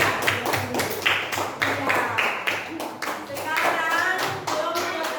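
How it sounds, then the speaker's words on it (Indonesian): Classroom clapping for a student group, many hands beating in quick uneven bursts close by, with a teacher's voice briefly over it. "Berikan tepuk tangan kelompok 2"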